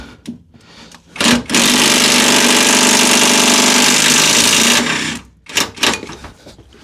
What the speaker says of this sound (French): Donc à la clé à choc.